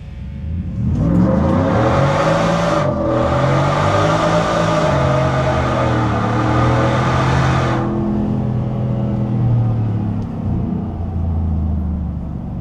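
A 700HP shop truck drives fast on a racetrack, its loud engine roaring close and steady for over ten seconds as the pitch rises and falls through gear changes.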